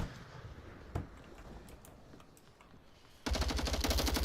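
Gunfire in the VR shooter Onward: a single sharp shot rings out early over quiet ambience, a few faint ticks follow, then a loud sustained burst of rapid automatic fire erupts near the end.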